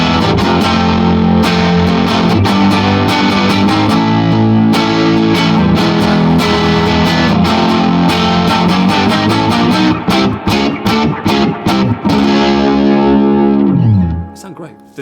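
A Squier Affinity Series Jazzmaster HH on its neck humbucker, played heavily distorted with effects: a thick, snarling wall of strummed chords and sharp stabs rings loud and close for most of the passage, then decays into feedback-tinged fade.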